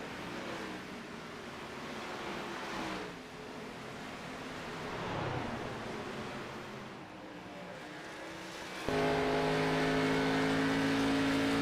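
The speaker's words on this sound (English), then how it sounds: "a lot of cars are coming down pit road right now" Race cars in a racing video game roar down pit road at Homestead, a steady layered engine drone that swells and shifts, ending with a louder, sustained tonal engine whine.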